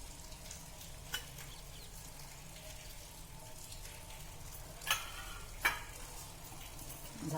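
Oil added around the edges of a pan of green moong breakfast batter sizzles softly and steadily. A couple of brief sharp clicks break through the faint, even hiss.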